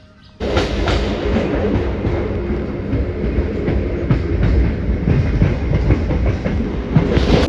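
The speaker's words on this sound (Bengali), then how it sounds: "ট্রেনে তো উঠে গেছি।" Loud rumbling interior of a moving passenger train near Majerhat, Kolkata, with steady wheel roar and clickety-clack over the rails, starting abruptly and continuing throughout, no voices.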